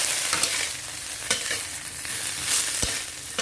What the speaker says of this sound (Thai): นี้ก็นำกุ้งแห้งของเรามาคั่วต่อเลยนะคะ